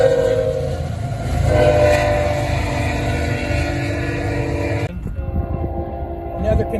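A container train rolls by close and loud near Slab City, its horn blaring in long tones over the rumble of railcars, with a short break before the horn resumes.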